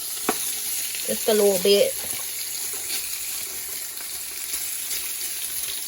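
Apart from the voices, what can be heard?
peppers and onions sizzling in a pan as they are moved around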